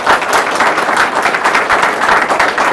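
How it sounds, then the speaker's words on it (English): A group of candidates and observers claps at an SSB interview practice session, producing a loud, close, uneven patter of hand claps that continues steadily throughout with no speech. "kindly clap for them"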